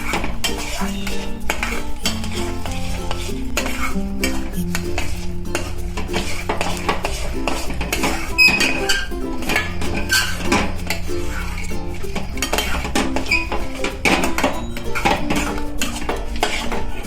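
A spoon stirring sesame seeds in a metal pan on a switched-off gas stove, with continuous scraping and clinking against the pan, busy and close, no voices.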